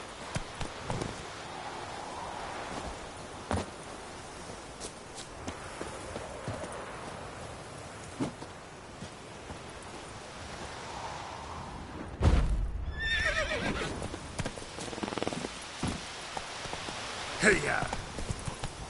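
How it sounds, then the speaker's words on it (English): A horse in The Witcher 3 game clops along with steady hoofbeats under soft rain, then gives a whinny during a louder burst near the middle, while a voice speaks to the animal at times. "Whoa there, Roach"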